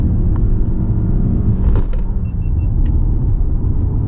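Interior of a 2019 Toyota Camry on the move, with steady loud engine and road rumble throughout and a brief shift in tone as it changes up a gear.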